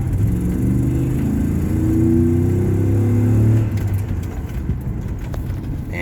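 Car pulling away at a green light with easy acceleration in first gear, a loud in-cabin engine drone whose pitch climbs and then drops, as if shifting, with faint clicks near the end.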